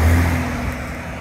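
A car passing by on a road behind someone outdoors, its engine rumbling loudly at first and then fading over a short stretch.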